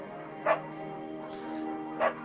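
A beagle barking in the video game Firewatch, two separate short barks about a second and a half apart over a low steady game ambience.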